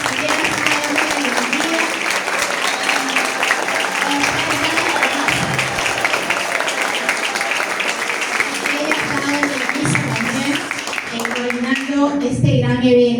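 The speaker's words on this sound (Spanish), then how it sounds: "un aplauso para ella, por favor" Audience applause at a school ceremony honouring a teacher, a steady wash of clapping running the whole stretch with voices mixed in and a brief rise near the end.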